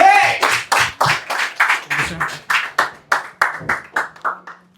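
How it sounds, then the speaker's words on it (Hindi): An audience claps for a poet in a steady round of sharp, rhythmic hand claps, strong at first and gradually thinning and softening over several seconds. "जोरदार तालियां एक बार."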